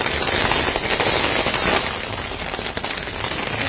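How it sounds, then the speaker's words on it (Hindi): Firecrackers and fireworks going off at an election victory celebration, a dense continuous crackling barrage of overlapping pops, loud and close, with no pause across the whole stretch. "जैसे ही जीत का ऐलान हुआ है उसके बाद से यहाँ पर पटाखे आतिशबाजी की जा रही है"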